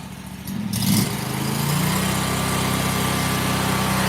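A Harbor Freight Predator V-twin engine revving up and then holding a steady, loud full-throttle drone close by.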